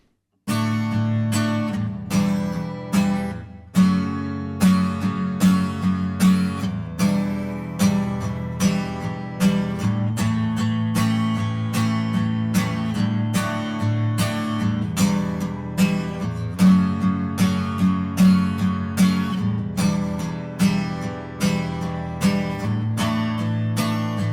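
Acoustic guitar slowly and evenly strums the verse of a song, chords ringing with occasional open strings during chord changes, played alone with no voice.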